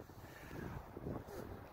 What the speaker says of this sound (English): It's a little windy and a little icy